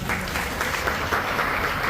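An audience at a Valmiki Chetna Diwas gathering in Hasanpur, India, gives a dense, steady round of applause, continuous clapping at moderate level with no speech over it.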